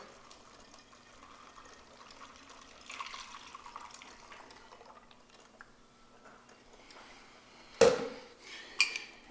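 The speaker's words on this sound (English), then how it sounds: "Let's pour this into the jug." A mixture of honey, water and foamy air is poured into a jug as a soft, steady trickle, with a sharp clunk and a couple of knocks near the end.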